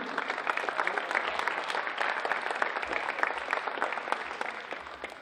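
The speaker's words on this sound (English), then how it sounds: "Give a round of applause for the coaches and volunteers." A crowd at a football camp applauds the coaches and volunteers outdoors, a steady dense patter of many hands clapping continuously at moderate volume.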